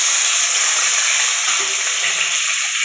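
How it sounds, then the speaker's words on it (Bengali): Chunks of elephant foot yam and potato fry in hot oil that was just used for fish, giving a loud, steady, close sizzle with no talking. "এবার আমি ওই তেলের মধ্যে এখন আলু আর ওলটাকে দিয়ে ভালো করে ভেজে নেব।"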